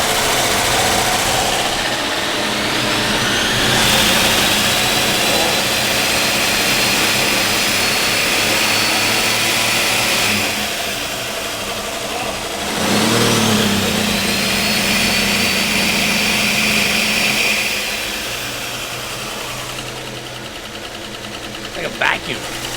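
An engine from a Holley build runs at a steady idle with a light mechanical ticking from the valve train. The hum is continuous and close, with a brief swell midway and a short rap near the end.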